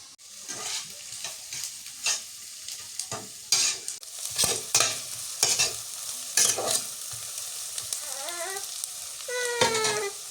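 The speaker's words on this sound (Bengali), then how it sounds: "মরিচ পেঁয়াজ ভাজা হয়ে গেছে" Green chilies and onions sizzle in a pan for a loitta fish curry while a utensil stirs and scrapes in repeated bursts; a cat meows briefly near the end.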